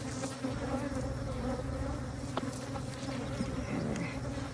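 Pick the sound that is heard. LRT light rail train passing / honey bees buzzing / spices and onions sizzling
honey bees buzzing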